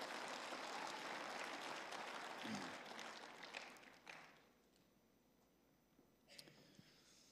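A church congregation claps together in a sustained burst of applause that fades over several seconds to quiet room noise, with a brief stir near the end.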